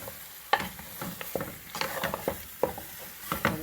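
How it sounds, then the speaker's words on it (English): Curry cow foot with butter beans is stirred in a pot at close range, with a spoon scraping and clacking in an irregular rhythm over a soft, low sizzle. No one speaks. "you just keep stirring it up"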